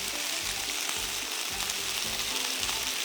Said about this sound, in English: When they are brown, turn them over and fry the other side as well.